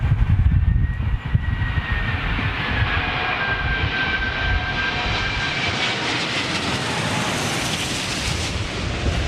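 Jet airliner engines spool up for takeoff on a damp runway, a loud continuous roar with a rising whine heard from a distance, steady and unbroken throughout.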